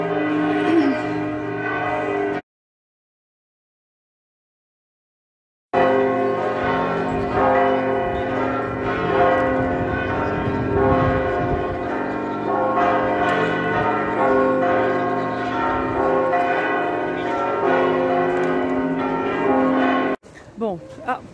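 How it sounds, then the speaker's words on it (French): Church bells ring out repeatedly with rich, resonant overlapping tones, loud and sustained, broken by a brief silent gap before resuming. "j'avais les cloches, je trouve ça très joli"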